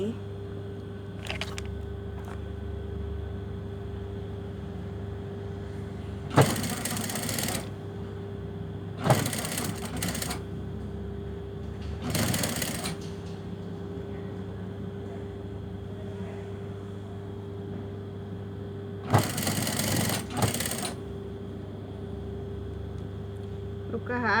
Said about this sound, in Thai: แล้วเราก็เย็บกดไปเลยนะคะ เย็บโดยให้ชิ้นข้างล่างเนี่ย มันแลบออกมานิดเดียวนะคะประมาณหนึ่งตีนผี